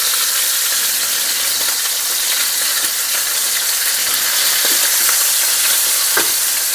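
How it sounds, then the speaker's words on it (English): Meat sears in a hot pan before going into an Instant Pot, giving a loud, steady, close sizzle with a few faint clicks and stirs and no voices. "Give that one a little bit more of a sear."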